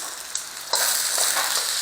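Onions for Hungarian lecsó fry in a pan, close to burning. There is a faint hiss at first, then a sudden loud, steady sizzle that continues to the end.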